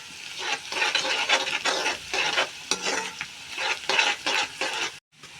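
Onions sauté in a hot pan for pav bhaji, giving a steady close sizzle broken by repeated scraping stir strokes that fall in a loose rhythm before stopping abruptly at the end.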